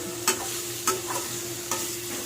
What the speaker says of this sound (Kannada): ಪನ್ನೀರ್ ಫ್ರೈ ಮಾಡ್ತಂದುಲ್ಲೆ